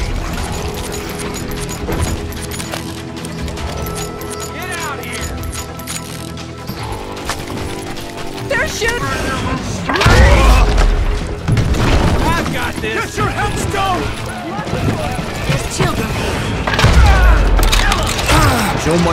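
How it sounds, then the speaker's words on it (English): Shotgun blasts and gunfire boom out in the Western shooter Call of Juarez Gunslinger, with heavy reports landing around the middle and near the end over game music and effects, while a narrator speaks throughout. "I was just glad I had Deputy Bob's mean-ass shotgun."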